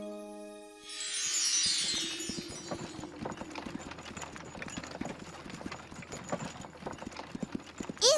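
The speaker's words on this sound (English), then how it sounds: "Stop, Pup Horse! Stop" Cartoon horse hooves clip-clop in a steady, fairly quick rhythm, close and clear, running continuously for several seconds after a short bright chime-like flourish at the start.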